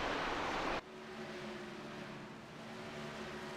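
Stock car engine at a short-track race at Dover being cut: a loud roaring drone stops abruptly under a second in, leaving a lower, quieter hum with faint tonal whine that continues to the end.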